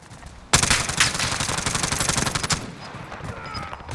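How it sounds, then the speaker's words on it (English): Sudden loud burst of rapid automatic gunfire in Call of Duty Warzone, a sustained stream of close shots for about two seconds, then quieter scattered distant fire and ambient battle noise. "Bastards are shooting at me!"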